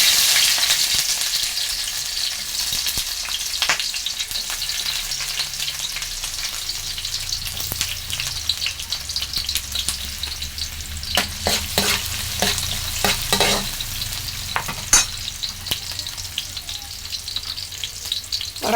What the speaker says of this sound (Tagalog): Ngayon gigisahin ko naman siya sa sardinas at lalagyan natin ng konting magic.